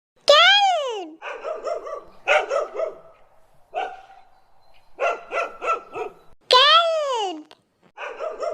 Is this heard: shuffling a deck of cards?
no